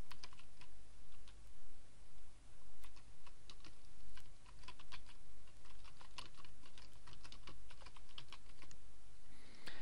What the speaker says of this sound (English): type in the new title